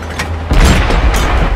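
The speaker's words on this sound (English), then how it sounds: "That one ricocheted." A tank shell ricochets off armor in the World of Tanks video game: a heavy, booming metallic impact after a quieter half-second, with a low rumbling tail that stays loud to the end.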